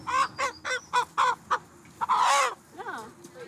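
Close, loud, rhythmic chicken calls in a quick series of squawking clucks, followed by a longer drawn-out cackle and a softer call.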